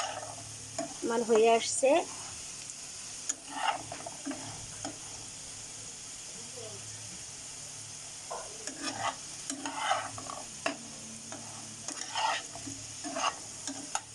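Potatoes fry in oil in a pan as they are stirred for a mutton curry, giving a steady sizzle with scraping stir strokes. Someone speaks briefly near the start.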